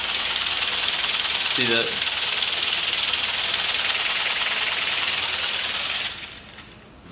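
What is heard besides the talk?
air engine idling at 30 PSI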